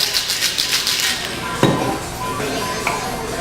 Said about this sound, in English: And then we're going to mix that up.